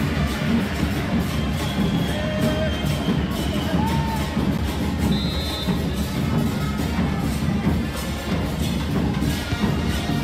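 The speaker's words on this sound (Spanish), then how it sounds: "¡Aplausos para el keeper!" A stadium crowd roars in the football video game FC 24 during a Liga MX match, San Luis vs Santos: a dense, steady wash of crowd noise with occasional dull thuds and faint whistles.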